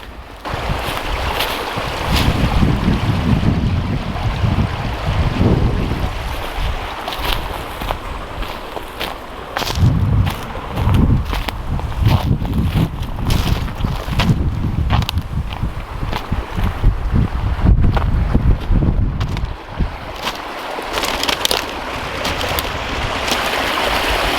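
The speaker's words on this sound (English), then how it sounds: "The water's still running over here nicely." Water running steadily past an opened beaver dam on off-grid land, a loud continuous rushing wash with wind buffeting the microphone throughout.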